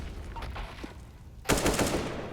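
Bursts of AK rifle fire from a Counter-Strike match on Mirage, a short quieter stretch of distant shots and game sounds giving way to a loud close volley of rapid shots, with another sharp shot at the end.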